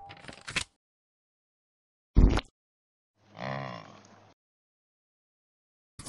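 A yak in the Play-Doh Seek and Squish game: after a couple of short, sharp sounds, a drawn-out, low, moo-like grunt lasts about a second, isolated against silence.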